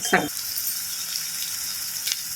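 Ginger garlic paste sizzling in hot oil with softened onions for a prawn curry, a steady faint hiss of frying with a short clatter at the start and a small pop near the end.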